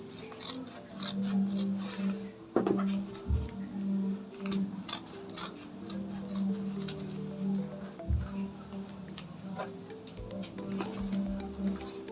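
Scissors cutting Ankara fabric for a sewing project, making soft repeated snips and crisp fabric rustles close by, with occasional taps and a low steady hum underneath.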